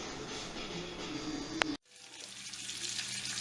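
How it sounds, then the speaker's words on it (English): Bacon frying in a pan, a soft steady sizzle and crackle, faint and close, briefly cut off before resuming. "Got our bacon going good."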